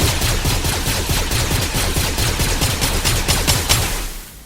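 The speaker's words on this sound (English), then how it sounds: "if I were to shoot it while it's still building, my gun might overheat" Rapid automatic gunfire in the video game Fortnite, a steady burst of evenly spaced shots fired for several seconds before cutting off and fading at the end, loud and alone with no talk.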